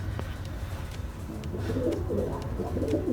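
Breeding pigeons coo softly and steadily at close range in an underground loft, with a few faint chirps and some low background rumble.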